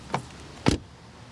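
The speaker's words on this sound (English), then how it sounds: "door closing sound." A Mercedes EQC electric SUV door shuts with a solid, close-up thump, preceded by a lighter click of the handle or latch a half second earlier.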